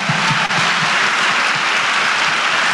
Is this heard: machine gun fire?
no